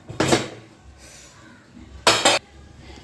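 Pumpkin balls go into an idli steamer pot over boiling water, with two distinct metallic clatters of utensils against the pot and a quiet stretch between them.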